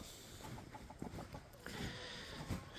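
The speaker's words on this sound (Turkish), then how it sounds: "Tavukları da saldık." Chickens cluck and murmur in a scattered, irregular rhythm against a steady outdoor background, fairly close but not loud.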